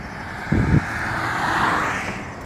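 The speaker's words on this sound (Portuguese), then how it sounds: "desculpa o barulho aí, por causa dos carros" Cars passing on the Rodovia Ayrton Senna highway, a steady roadside roar that swells as a vehicle goes by, with a brief low thump near the start and no talk.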